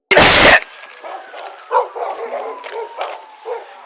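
A dog barks and yips during a tense police confrontation outside a house: one loud, sharp close burst, then a run of quieter, rapid barks and whimpers.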